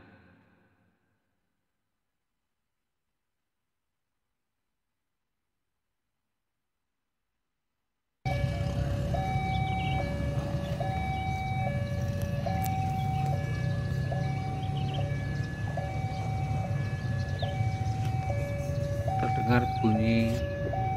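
After several seconds of silence, a railway crossing signal rings in a steady two-tone alternating pattern as the barrier prepares to close, over rumbling traffic noise in Indonesia.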